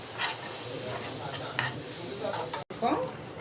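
Butter and flour are stirred in a pan for a pasta sauce, a steady near scraping and soft sizzle with utensil clinks and brief spoken voices in the background.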